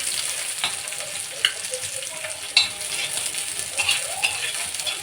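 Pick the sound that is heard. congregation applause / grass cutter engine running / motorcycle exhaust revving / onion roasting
onion roasting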